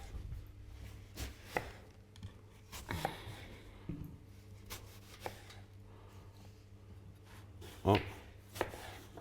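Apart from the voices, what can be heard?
knife slicing roast lamb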